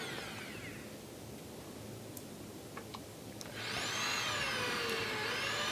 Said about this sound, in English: So I'm just drilling like a millimeter or two and put in more oil.